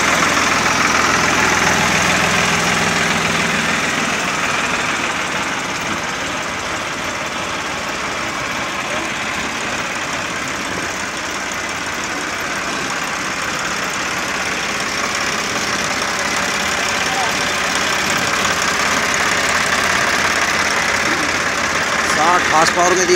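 An Eicher 5660 tractor with a 60 HP engine idles. It gives a continuous, loud diesel rumble with a steady vibrating drone, and the sound holds level from start to finish.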